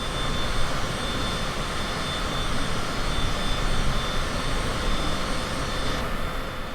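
Steady, loud drone of a small airplane's engine in flight over Sanibel Island, a dense continuous roar filling the whole stretch with no pauses or voices.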